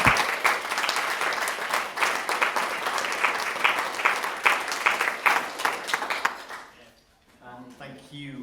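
Audience at a symposium at The Hepworth Wakefield applauding the panellists, a dense, steady roar of many hands clapping for several seconds before it dies away, leaving a brief quiet with a voice beginning to talk.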